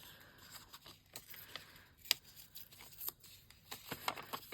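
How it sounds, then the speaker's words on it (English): Paper torn by hand for a junk journal, heard as a quiet series of short, dry rips and crinkles with gaps between them, close to the listener. "I'm going to just tear it up a little bit more"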